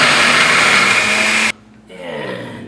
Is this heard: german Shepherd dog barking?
no